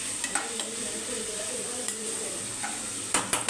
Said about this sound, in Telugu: ఇప్పుడు ఒకసారి మనం కలుపుకోవాలండి.